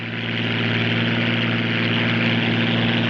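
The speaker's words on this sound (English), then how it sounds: "the jet on the water ski motorboat" A water ski motorboat engine drones in a 1951 film scene, a loud, steady, continuous roar with a low hum running unbroken throughout.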